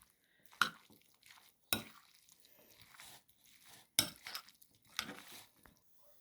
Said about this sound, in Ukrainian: Ретельно перемішуємо.